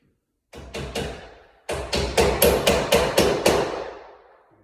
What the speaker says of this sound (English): There's a little hole in it just to put the nails in it, so you go and hammer it.